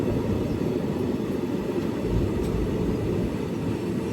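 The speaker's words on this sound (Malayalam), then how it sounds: "ട്രെയിൻ ഇപ്പോൾ അനന്തപുരം സ്റ്റേഷനിലേക്ക് എത്തുകയാണ്" Mysuru to Talguppa Express pulling into Ananthapuram station at dawn, a steady low rumble of rolling wheels and carriages heard from on board, loud and continuous with no voices.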